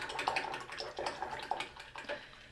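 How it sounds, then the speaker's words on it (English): An acrylic paint brush is swished and rinsed in a water cup, giving repeated close splashing and swirling bursts in an uneven rhythm, with no talking. "let's go ahead and wash our brush"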